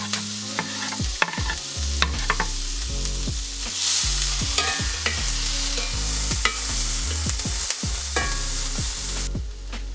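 Onion, garlic, parsley stems and chili fry in a little butter for a seafood spaghetti, a close, steady sizzle broken by frequent scraping stirs, with music playing underneath.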